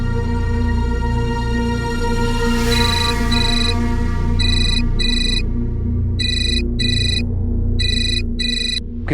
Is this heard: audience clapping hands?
no